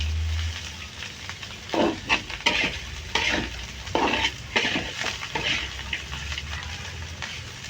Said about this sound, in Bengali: উস্তা ভাজিটা আমরা নাড়াচাড়া করে একদম লাল করে ফেলবো